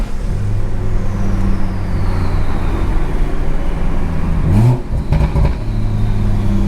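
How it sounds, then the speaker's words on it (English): Stage 2 turbocharged BMW 340i at night, heard as a loud, steady engine drone under hard acceleration from inside the car, with a brief shift-like dip and whoosh before the pull resumes. "That turbo is everything"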